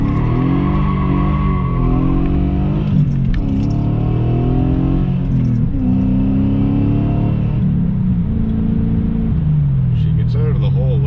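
A BMW E39 540i with a failing rear differential launches hard with both rear tires spinning. Its engine drones loud and close the whole time, pitch climbing and dipping in surges, with a voice talking over it.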